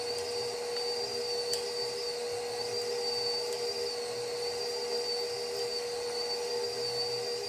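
A meat grinder on its lowest, stir-like setting works through 1-inch cubes of beef from a New York striploin, giving a steady, even motor hum with a whiny high tone that runs unbroken and close by, with no talking.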